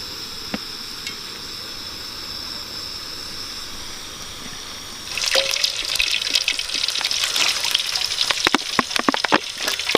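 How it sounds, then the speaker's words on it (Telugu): Oil poured into a heated vessel: a quiet hiss at first, then after the midpoint a sudden louder crackling and spitting with sharp pops that grow denser toward the end. "ఆయిల్ పోసేస్తున్నా"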